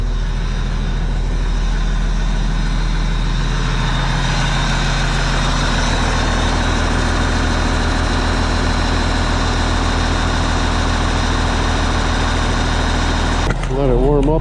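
A tractor engine, recently repaired and restarted, idles steadily as it warms up, a low constant rumble with a brief clatter near the end.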